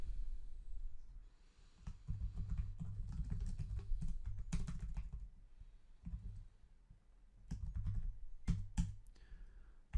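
Someone types a firm name on a computer keyboard, with rapid bursts of close key clicks in uneven runs, a short pause between bursts, and no talking.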